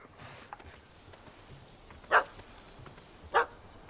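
Two sharp, separate dog barks about a second apart ring out in The Witcher 3: Heart of Stone, standing clearly above a quiet game ambience with no speech.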